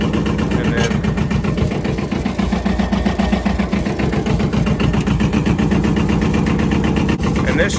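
A Yanmar 2210 tractor's engine runs with a steady low rumble and a rapid, even mechanical throb, loud and close throughout while someone talks over it.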